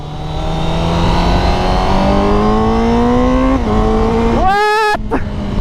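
A Honda CBR1000RR-R Fireblade SP sport bike runs at about 80 km/h with a steady, loud engine drone whose pitch climbs gradually. Near the end a brief, sharper rising whine cuts in, and wind noise sits underneath.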